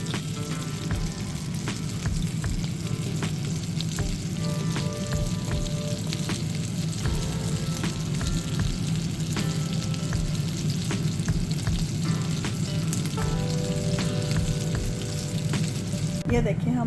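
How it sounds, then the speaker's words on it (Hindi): Chicken shami kababs fry in a pan with a steady, loud oily sizzle and crackle that holds throughout, with occasional soft clinks of stirring. "ये देखें इसी तरह से भी अच्छी तरह फ्राई हो गए हैं।"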